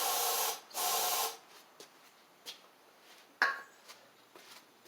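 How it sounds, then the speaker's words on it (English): Short hissing bursts of carburetor cleaner aerosol spray on a John Deere D140 riding mower, two long blasts followed by several brief spritzes with quiet pauses between them. "Let me get carb spray."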